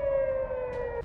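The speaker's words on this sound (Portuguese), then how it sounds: "Sirenes soaram à medida que os mísseis e drones se aproximavam." An air raid siren sounds in Israel during an Iranian missile and drone attack, a loud sustained steady wail with layered harmonics over a low rumble, holding its pitch for about a second.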